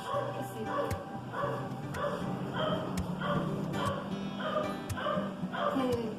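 Several dogs bark repeatedly in quick, uneven bursts, some yips and whimpers mixed in, fairly close and continuous throughout.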